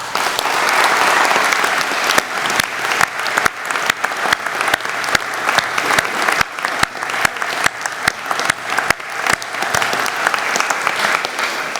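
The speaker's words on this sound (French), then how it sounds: "je souhaiterais qu'on puisse les applaudir." Loud, sustained audience applause fills a New Year's greetings ceremony, many hands clapping close and dense, with sharp individual claps standing out and no talking.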